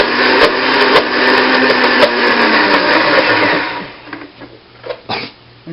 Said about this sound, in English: you just throw it all in the blender so fast